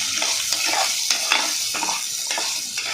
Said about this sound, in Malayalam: നല്ല ഇളക്കി കൊടുക്കുക.